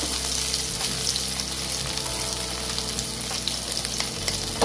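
Paneer frying in a pan, a steady dense sizzle and crackle that holds throughout at close range, with faint stirring underneath and no talk.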